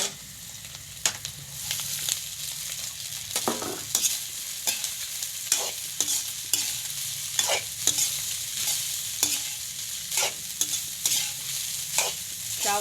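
Rice and onion stir-fried in a hot pan for a home-style fried rice, with steady sizzling and repeated sharp scraping strokes of a spatula at an irregular rhythm, close and fairly loud with no talking.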